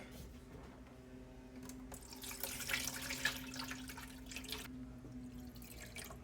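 Water pours into the plastic tank of an Aerogarden indoor kitchen garden, a steady splashing stream that swells louder in the middle and then eases off, with a constant low hum beneath it.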